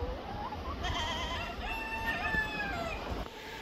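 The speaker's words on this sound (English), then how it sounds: "I hear you, goats." Goats bleat in drawn-out wavering calls, fairly close, with chickens and a rooster crowing mixed in over steady outdoor background noise.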